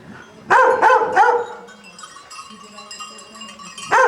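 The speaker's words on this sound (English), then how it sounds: "It's a bunch of goats and a barking dog." A dog barks several times nearby in a quick run, then again near the end, over faint bleating goats and a clanking goat bell in the background.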